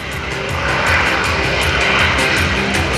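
A P-51 Mustang launching at an airshow gives off a loud, steady roaring engine drone with a pulsing rhythm, continuous throughout.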